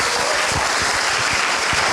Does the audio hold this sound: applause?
yes